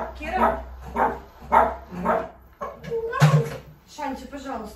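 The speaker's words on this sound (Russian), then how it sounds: "пожалуйста, не гавкай" A dog barks repeatedly in sharp bursts at close range, with a person speaking around and between the barks.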